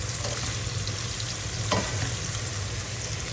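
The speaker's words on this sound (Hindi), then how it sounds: "अच्छे से ब्राउन इनको करेंगे हम प्याजों को।" Sliced onions fry to brown for a masala bhandi. A dense, even sizzle runs without a break at close range, with one brief scrape of the spoon near the middle and no voices.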